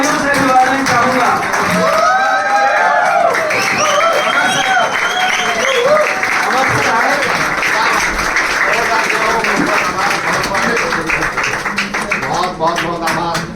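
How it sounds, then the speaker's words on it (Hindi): Loud applause from a packed audience at an agriculture training event, mixed with a voice or music carrying over the clapping for most of its length. "मैं जोरदार तालियों से बुलाना चाहूंगा"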